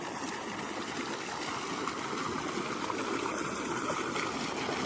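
Water pumped by a farm motor pours through a field channel as a constant close rushing, gurgling flow, steady and unbroken throughout, with no talk.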